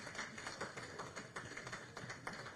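Applause from an audience at a ministry ceremony, soft and somewhat distant, a rippling patter of many hands clapping continuously with no voices over it.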